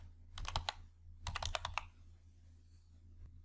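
Two quick bursts of computer keyboard typing while entering a formula in Excel, each a few crisp clicks close by, separated by a brief pause against a quiet background hum.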